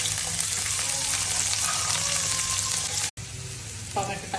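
Onion dropped into hot oil with garlic, cumin and green chilli in a pan, giving a loud, dense, continuous close sizzle that cuts off briefly and then resumes.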